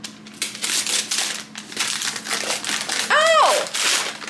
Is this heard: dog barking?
no